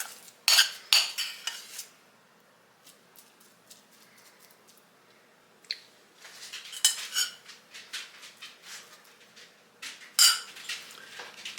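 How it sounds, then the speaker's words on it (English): Metal spoon clinks and scrapes against a plate and pot while serving rice, sharp close clatters in bursts separated by quieter stretches of soft scooping, with no talking. "now I'm going to add some of this rice to this plate"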